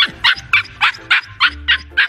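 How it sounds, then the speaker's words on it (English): Husky puppy barking close by: eight short, high yips in an even, rapid rhythm over about two seconds. "Why you gotta bark so much, buddy?"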